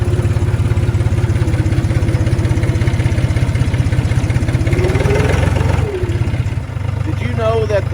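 A tractor engine chugs loud and close in a steady idle, its rapid low thumping broken by a short dip and a faint rising whine near the end.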